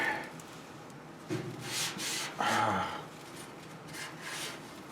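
A Spin Tech frame connector on a Cobra Jet is being trimmed with a hand tool, giving a few rough rasping strokes against a low steady background, close and moderately loud, with no speech.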